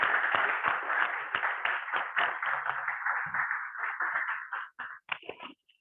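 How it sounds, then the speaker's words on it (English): A room of people claps together at a club meeting, a dense run of applause that holds steady for several seconds, then thins into a few scattered claps before stopping. "With a round of applause."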